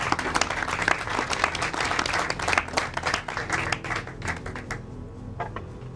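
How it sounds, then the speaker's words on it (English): Audience applause for a volunteer named Shelley stepping up at a presentation, brisk crowded clapping that thins out and fades toward the end. "Would everyone like to give Shelley a round of applause?"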